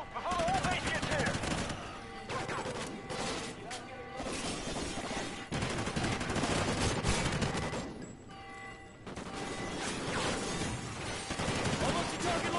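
Call of Duty: Ghosts gunfire fills the scene with rapid, loud volleys and glassy crashes, continuing almost without pause and mixed with voices.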